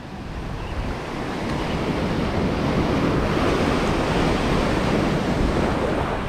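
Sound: ocean waves breaking on the shore

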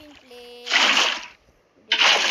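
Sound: water being placed in Minecraft video game

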